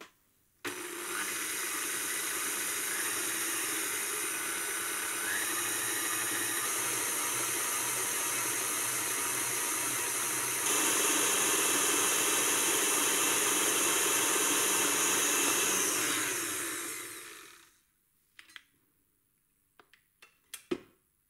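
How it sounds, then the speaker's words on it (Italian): A stand mixer beats apple and blueberry cake batter with a loud, steady whir for about seventeen seconds, then winds down and stops, followed by a few light clinks. "facciamo ripartire la planetaria fino a che tutti gli ingredienti non saranno mischiati e l'impasto non risulterà cremoso"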